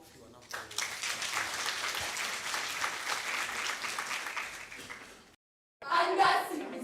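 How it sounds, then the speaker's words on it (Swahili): An audience at a certificate ceremony claps steadily for about five seconds, then breaks off briefly before a shorter round resumes with a voice speaking over it. "Tuwapigie makofi wanapo."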